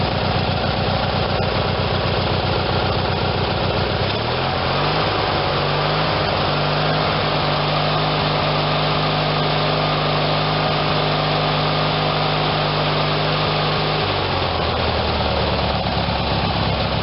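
A Briggs and Stratton twin-cylinder tractor engine idles steadily with a low, throbbing, uneven beat, loud and close, settling into a smoother rumble midway before roughening again.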